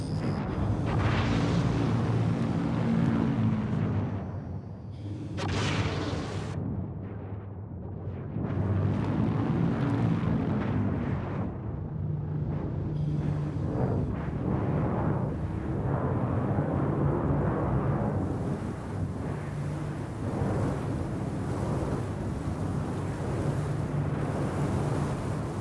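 A spaceship's engines in Star Citizen run with a deep, continuous rumbling hum and steady low tones, swelling and dipping slightly over a long stretch of loud, broad noise.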